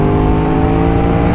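An Aprilia RS660 A2-restricted sport motorcycle accelerating hard, its engine tone loud, close and steady throughout with a dense, continuous roar and no talking.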